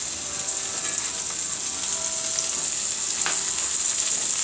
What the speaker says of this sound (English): I'm literally frying the cheese, or grilling the cheese.